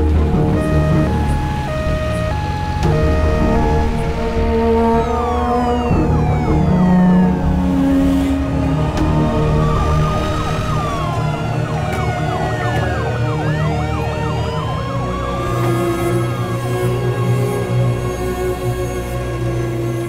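An ambulance siren wails continuously at a bridge collapse scene, loud and near, its rising and falling tones sweeping over a dense bed of traffic noise and background music with no talking.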